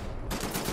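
A loud, dense burst of rapid automatic gunfire from the shooter video game Wolfenstein: The New Order, close and overwhelming for well under a second, with no voices over it.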